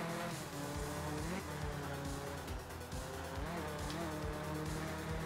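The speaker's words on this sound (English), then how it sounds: "This is like a four-wheel drive group 3 car that can't accelerate." A four-wheel-drive Group 3 race car in the racing game CatFace Endurance Australia revs and shifts through repeated rising engine sweeps with occasional tire squeal, a continuous close engine drone.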